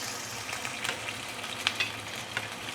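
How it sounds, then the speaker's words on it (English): Fish frying in oil heated to at least 180 °C, with ginger and spring onions on the way, gives a steady close sizzle broken by a few sharp crackles and pops, and no one speaks. "So we are going to fry this the fish until it is fully cooked."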